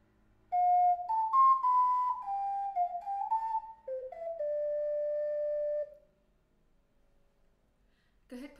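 A solo ocarina plays a melody, a clear, pure, whistle-like line of about ten stepwise notes over five seconds, ending on a long held tone, then silence and a faint click.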